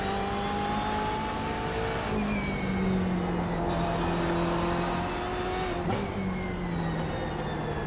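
A car engine drones steadily on a race track after a downshift into second gear, its pitch sweeping up and down with revs and a brief dip as the throttle changes, loud and continuous with no talking.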